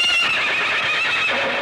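A horse in a 1972 Tamil film lets out a loud, sustained whinny lasting nearly two seconds, bright and wavering, heard alone without talk.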